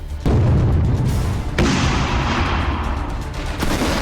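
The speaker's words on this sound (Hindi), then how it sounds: "बम गोलों की बारिश हो रही है।" Heavy booming artillery blasts in the Russia-Ukraine war, loud and rumbling, with a couple of sharp onsets followed by long rolling reverberation, like distant explosions.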